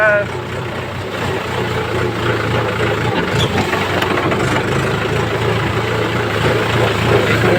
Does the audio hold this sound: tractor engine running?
yes